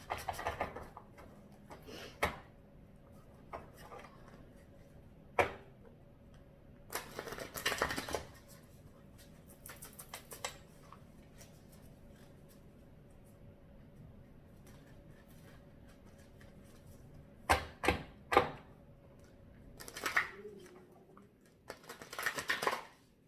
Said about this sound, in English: Cards are huge too, so they're kind of hard to shuffle.